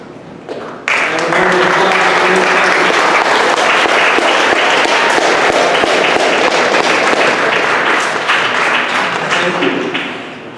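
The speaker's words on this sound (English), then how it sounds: "I'd like to give them a big round of applause" Dense, loud applause from an academy convocation audience honoring 12th grade seniors, starting abruptly and holding as a steady wall of clapping before tapering slightly at the end.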